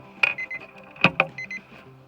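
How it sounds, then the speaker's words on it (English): Short electronic beeps from a smoker thermometer sound in a sparse, irregular pattern, a few sharp chirps standing out against a low steady hum. "Let's unplug it to get the thing to stop beeping."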